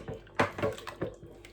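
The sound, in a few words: pouring condensed milk into pumpkin punch and mixing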